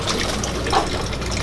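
Water pours and trickles steadily out of an aquarium sump in a fish room during an automatic water change, a brief, even splashing with no voices.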